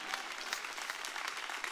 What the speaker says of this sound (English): Come on, clap your hands one more time.